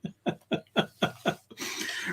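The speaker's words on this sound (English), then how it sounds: "I have the old man cough." A man's habitual throat-clearing cough, repeated as six short, evenly spaced coughs close to the mic, followed by a brief burst of breathy noise.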